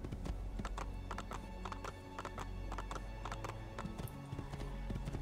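Hoofbeats clatter steadily in Assassin's Creed 2, a close, even clip-clop running throughout with a horse whinnying partway, and no one speaking over it.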